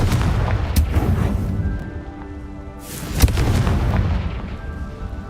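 The Confringo fire spell in the video game Hogwarts Legacy detonates in booming blasts, a sharp hit near the start and a louder, heavier explosion a few seconds later with rumbling decay between.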